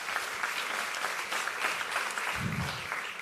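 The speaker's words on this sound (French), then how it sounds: "On peut l'applaudir." Applause from a live audience as a startup pitch-battle contestant is called onstage for a semi-final, a steady dense wash of clapping that fills the whole stretch with no voice over it.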